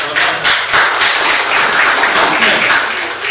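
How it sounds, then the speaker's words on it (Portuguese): A crowd applauding steadily at a regional health council lecture, dense clapping filling the whole stretch at a loud, even level with no talk over it. "uma salva de palmas para a conselheira"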